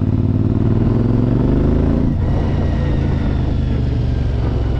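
A CFMoto 450MT motorcycle engine runs loudly and close, a steady deep throb with its pitch easing slightly as it settles, no voices over it.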